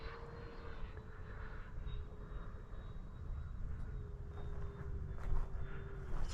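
Freewing F-4 Phantom RC jet throttled back while coming in to land on grass with no flaps, a steady whining engine drone with a thin high tone, heard from a distance and fairly even throughout.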